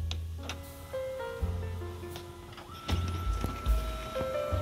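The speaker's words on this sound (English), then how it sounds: "So the printing is going to come." HP MFP 178nw laser printer running off a printout of a scanned ID card, with mechanical whirring, rising motor tones and clunks of paper feeding close by, no talking.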